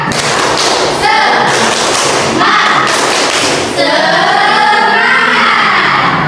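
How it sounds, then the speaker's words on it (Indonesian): A school class in an Indonesian science lesson performs a rhythmic spirit clap, a run of loud, sharp claps and thumps in a patterned beat, with a teacher's and pupils' voices joining in near the end. "tepuk semangat"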